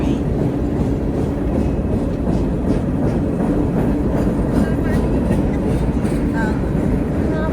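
A cargo train passes at night, a steady broadband rumble with faint rolling clatter holding at constant loudness throughout, with brief talk over it.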